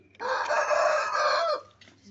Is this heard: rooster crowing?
yes